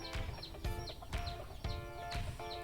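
A fighting rooster clucks in a series of short, repeated calls at close range on a Thai farm, with no talking over it.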